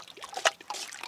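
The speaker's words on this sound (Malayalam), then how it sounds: "ഇനി നമ്മുടെ വാനില എസൻസ് ഒഴിച്ചു കൊടുക്കട്ടെ കുറച്ച്" Vanilla essence trickles into a bowl of egg mixture for a watermelon caramel pudding cake, a faint, brief dribble with one short splash near the middle.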